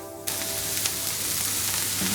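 Leeks hitting a hot frying pan break into a sudden broad sizzle that holds steady and fairly loud, with a brief utensil scrape partway through and no talk.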